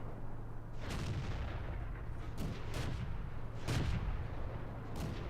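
Heavy tank cannon shots in World of Tanks, played from a T40 tank, boom out repeatedly over a constant rumbling engine drone, with several deep blasts spaced a second or so apart.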